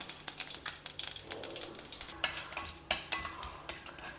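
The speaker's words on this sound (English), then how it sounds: "Saute them till the dals are browned, light golden color." Mustard seeds, urad dal, channa dal and cumin seeds in about two tablespoons of hot oil, a close crackling sizzle with a steady run of small pops and spatters.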